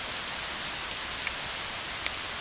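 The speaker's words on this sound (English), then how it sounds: "it's pouring rain" Pouring rain falling in a dense, steady hiss, with a few sharper drop ticks standing out and no voices.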